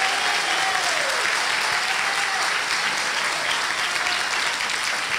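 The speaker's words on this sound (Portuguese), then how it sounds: "Pode aplaudir de novo," A church congregation applauds during a missionary's testimony, giving a sustained, even wash of many hands clapping for several seconds, with a faint tonal sound briefly rising above it.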